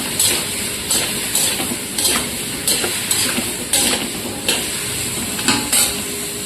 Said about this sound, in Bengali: আমি এটা খুব সুন্দরভাবে ভেজে নেব।